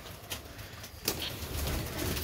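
Pet pigeons coo low and soft in a home loft on a morning, their murmuring calls continuous over a steady background hiss with a brief louder burst partway through.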